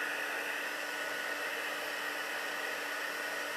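A heat embossing tool blows a steady loud rush of hot air with a faint whine on top, close to the mic and unbroken, with no talking.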